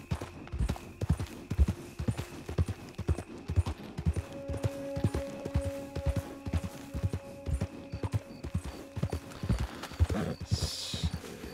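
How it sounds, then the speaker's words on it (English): Horse hooves clip-clop in a steady, even trotting rhythm in the video game Red Dead Redemption 2, close and moderately loud, with a faint tonal drone in the background. "That was one of the horses."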